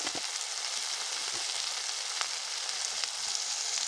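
New potatoes frying in a pan with spices for egg dum aloo, a steady broadband sizzle running throughout with a few soft stirring scrapes, close and fairly loud, no voices.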